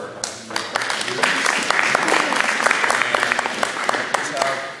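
Crowd applause at an election debate in a school, many overlapping claps, steady and fairly loud throughout, with some voices mixed in.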